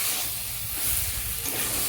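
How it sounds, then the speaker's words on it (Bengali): Fried potatoes and cauliflower sauté in spice paste in a pan, a soft continuous hiss and sizzle, faint and close, with some low clatter of stirring. "আলু ফুলকপি দিয়েও আমি একটু কষিয়ে নেব।"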